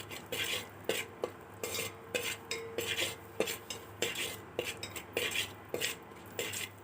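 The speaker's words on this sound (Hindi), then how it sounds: "फिर चम्मच से हिलाते हुए उसे भूरा होने तक इस पात्र में उसे पकाइए।" A spoon stirs cumin seeds in hot oil in a cooking pan while preparing a home-style lauki and matar sabji, giving close, rhythmic metallic scrapes and clinks over a faint steady sizzle, with no talking.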